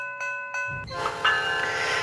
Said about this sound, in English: Brenda's whistle sounded, and her wheels shunted the rails and the cars began to stop at the gates